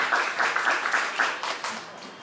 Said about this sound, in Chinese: 那我们让我们以热烈的掌声欢迎黄志豪律师